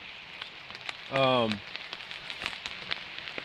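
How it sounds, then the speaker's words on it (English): Rain pattering steadily on a hammock fly at a backpacking camp, a light, fine patter under a brief nearby voice, with scattered soft drops throughout. "it's raining right now"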